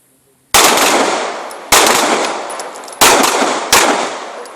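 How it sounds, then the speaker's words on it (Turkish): Four sharp, loud pistol gunshots fired as two double-taps in quick succession, each cracking out and ringing off into a long echoing tail, with no voices. "İki tane duble atış yapıyoruz."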